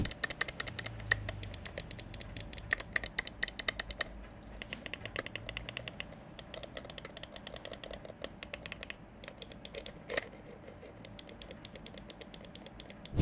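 Sharp, close clicking comes in rapid irregular bursts from the non-silent button of a Rexus Olden QB400 office mouse pressed over and over, with no voices.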